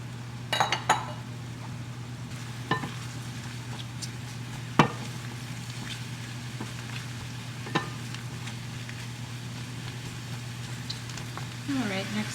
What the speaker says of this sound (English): I'm going to saute these for about a minute and then I will add the mushrooms